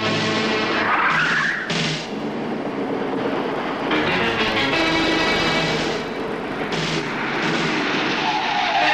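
A motorbike skids and screeches over a rough mechanical roar, the tyre squeal rising and falling in several loud bursts with no voices.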